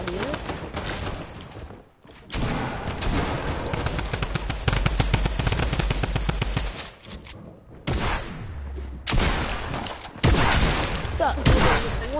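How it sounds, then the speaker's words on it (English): Combat shotgun fire in the Fortnite video game: rapid repeated blasts in dense bursts with brief gaps, loud and close, with other gunfire and game noise, and a voice talking now and then. "Oh, he had a combat shotgun."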